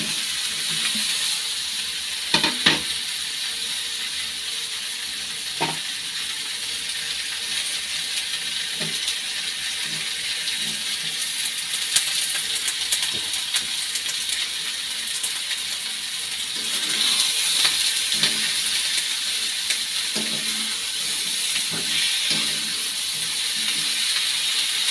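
Eggplant frying in a pan of hot oil with garlic already browned in it gives off a steady, close sizzling hiss with scattered crackles and clicks and no talk.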